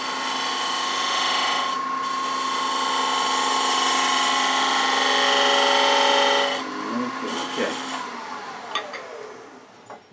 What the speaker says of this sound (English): I'm going to switch to a detail gouge, make it just a little easier to work my way back there